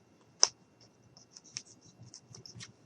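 An X-Acto knife with a dull blade cuts out material for fluffy sandals, giving a sharp scrape at first and then a string of softer, short scratching strokes close by.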